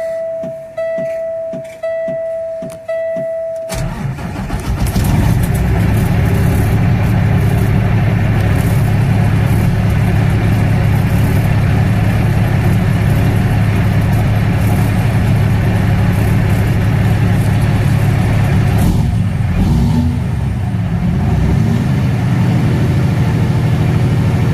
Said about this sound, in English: we're gonna do a cold start here so you can see how this thing's running